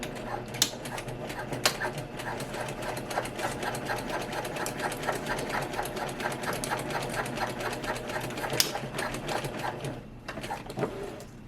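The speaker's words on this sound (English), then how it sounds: "we are going to just stitch this edge at our regular seam allowance." A sewing machine stitches a seam along the edge of a quilted shoulder bag, running in a fast, even mechanical rattle for about ten seconds at moderate, close range before pausing, with a few sharp clicks along the way.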